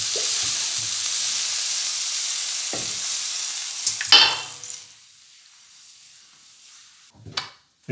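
Crêpes cooking on two greased griddle plates give a steady close sizzle for about four seconds, broken by soft scraping and turning knocks. The frying then drops to a quiet hiss, and one more brief clatter comes near the end.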